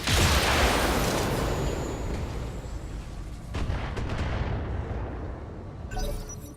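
Mech weapons firing in the BattleTech video game during a mercenary campaign mission, a loud sustained barrage of booming, crackling gunfire and explosions with a sharp renewed burst near the end, no talk.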